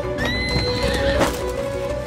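A white horse whinnies loudly and close, with a long rising-falling neigh over clopping hooves at a gallop, the sound carrying clearly on its own.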